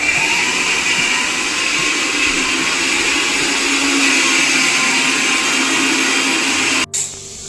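A kitchen mixer grinds chopped ginger and garlic into paste with a loud, steady, close whirring roar that runs almost the whole time, then cuts off abruptly near the end.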